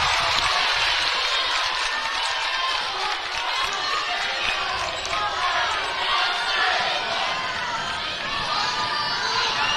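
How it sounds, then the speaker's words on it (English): Crowd at a girls' high school basketball game between Lander and Lyman in Wyoming, a constant loud roar of cheering and shouting voices filling the gym, with a commentator talking over it. "Crowd making some noise, as you can hear"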